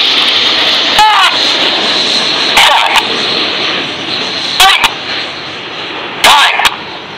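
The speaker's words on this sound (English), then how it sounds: "they're turning downwind now, and from 350 knots or 400 miles an hour, the aircraft will slow down downwind to 170 knots" Red Arrows jet aircraft at an air show, loud sustained engine roar with several sharp whooshing passes sweeping across, heard under a commentator talking.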